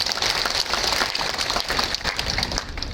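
A crowd at a political rally applauds loudly and steadily, a dense crackle of many hands that carries on without a pause for the whole stretch.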